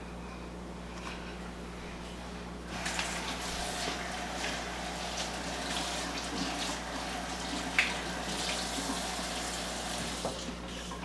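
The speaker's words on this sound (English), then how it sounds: "Let me wash my hands" A tap runs in a kitchen while hands are washed between cooking steps, a quiet, steady stream of water that swells a little after a few seconds, with faint splashes and no talk.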